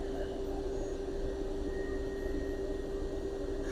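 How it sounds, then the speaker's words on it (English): A 1963 Chrysler Turbine Car's gas turbine engine runs at a steady idle, giving a continuous jet-like whine with a sustained high tone over broadband rushing noise, close and even throughout. "as you can see, the engine is actually running. It's pretty cool. Sounds like a jet."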